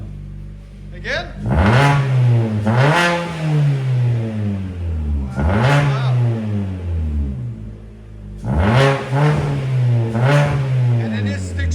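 A 2012 Chevy Sonic with a manual gearbox and its resonator and muffler cut out revs hard in several loud, raspy bursts, rising and falling close by, with a short exclamation from a bystander.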